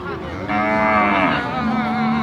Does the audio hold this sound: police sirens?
no